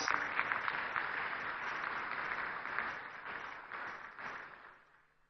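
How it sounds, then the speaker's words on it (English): Sustained audience applause at a national economic dialogue event, dense steady clapping from a large crowd that carries on for several seconds before gradually thinning and fading out at the end. "If we can just support with a longer applause."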